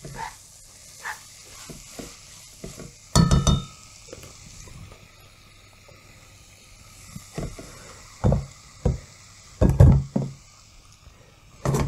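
Braised cabbage and potatoes being stirred in a pot, irregular knocks and scrapes of a utensil against the pot in short bursts separated by quiet gaps, close and fairly loud, no talking.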